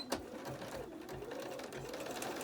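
A sewing machine stitches a fabric mask with a quiet, continuous needle chatter and soft motor hum, close by and steady throughout.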